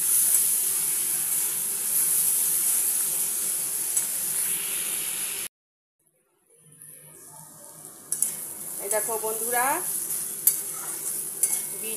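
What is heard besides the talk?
beetroot frying and being stirred in a pan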